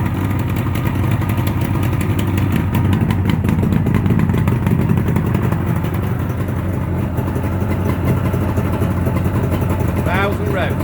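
A 1976 Suzuki GT750A motorcycle, freshly rebuilt and stone cold at its first start-up, idles with a steady, close two-stroke burble that runs unbroken, while a voice talks over it.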